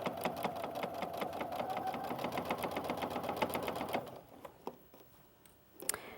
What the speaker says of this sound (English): keep sewing all the way down until you get to the other dot